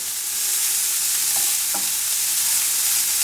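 Leeks and bacon fry for a quiche in a pan with a steady, bright sizzle, occasionally stirred, and nobody speaks.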